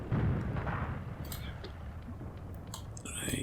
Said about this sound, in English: Right, so that mortar fire's now finished.